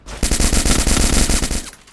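A loud, rapid burst of automatic gunfire in the battle royale game Free Fire, about a dozen shots fired in quick succession for roughly a second and a half, then cutting off, close and with no voices.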